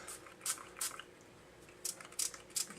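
A spray bottle squirts wet water onto glue on a model railroad tunnel wall, giving several short, close hissing spritzes in two quick clusters, without talk.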